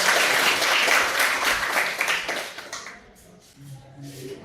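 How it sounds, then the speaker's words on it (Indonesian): A group bursts into dense, loud applause for a group that has just presented, carrying on for a few seconds, then thinning out and tapering off into scattered claps. "Mari kita berikan tepuk tangan kepada kelompok 2."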